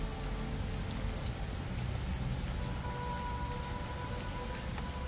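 Steady rain pattering on a surface, a continuous close hiss with scattered individual drops and no voices.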